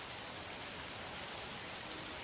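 Steady, heavy rain pours down in a dense, even hiss with no gaps, loud and close, with no voices over it.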